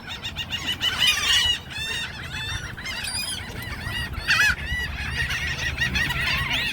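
Geese at a bird park in New Orleans honk over and over, a close, busy chorus of overlapping nasal calls and clucks against a low background hum, without talk.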